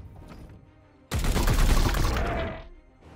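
A dense burst of gunfire from the Warhammer 40k Chaos Gate Daemonhunters video game erupts after a second of quiet, a loud sustained volley lasting about a second and a half before fading.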